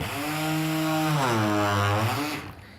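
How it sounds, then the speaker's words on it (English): A close, loud electric sander whines steadily, its pitch dropping and straining as it is pressed onto wood, then winding down. "people tend to press down too hard when they're sanding"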